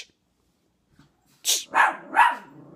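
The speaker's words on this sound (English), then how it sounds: "apologize for the dogs barking." Dogs bark indoors in a quick run of three sharp, fairly close barks following a brief quiet stretch, with no talking over them.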